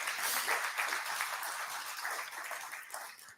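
A graduation crowd at a Red Pheasant First Nation ceremony applauds an Indigenous Early Childhood Education award recipient, a steady wash of hand clapping that sounds moderately distant and fades slightly toward the end.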